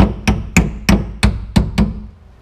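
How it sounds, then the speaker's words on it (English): A hammer strikes a spacer on a 2005 Ram 3500 Cummins truck's chassis mount six times in an even rhythm, sharp metallic blows up close. "Hit it with a hammer about 16 or 18 times"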